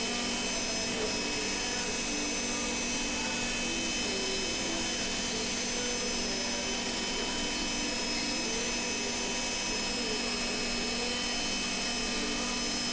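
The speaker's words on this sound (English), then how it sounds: "Coming in with the 1/8" bit to clean up all the corners and make everything tight." A router fitted with a 1/8 inch bit cleans out the corners of a wooden workpiece, giving a steady high-pitched motor whine with a constant hiss that runs unchanged throughout, with no speech.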